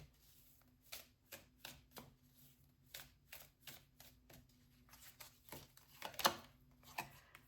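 Repeated crisp riffling bursts of oracle cards being shuffled, roughly a dozen quick close-up flicks in an uneven rhythm, one sharper snap near the end.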